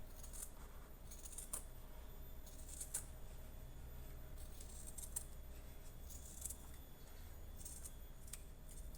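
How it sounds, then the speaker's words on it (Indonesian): Scissors cut gold upper material for a high-heeled sandal, giving sharp close snips at irregular intervals over a quiet background hum, with no talk. "Kita gunting juga nih"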